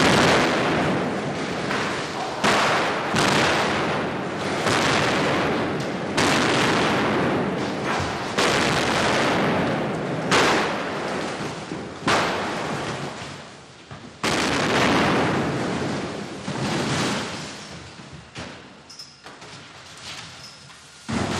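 Special effects explosions staged for the film Superman III, a long series of loud booming blasts and crackling bursts in irregular succession with rumbling tails between them, no speech.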